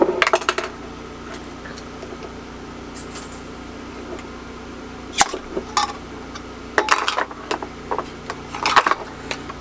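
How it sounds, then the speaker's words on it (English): Metal canning jar lids clatter into a bowl during kidney bean preserving, with scattered sharp metallic clinks and rattles up close, a few at the start and clustered bursts later over a quiet background. "I'm going to stick that lid right in the bowl so I know which is which"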